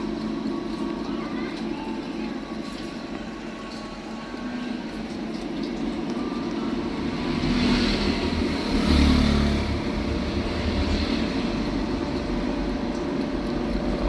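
An air fryer switched on during a repair for a no-power fault, giving a steady mid-level whir and hum from its fan and heating tube that swells slightly partway through before settling again.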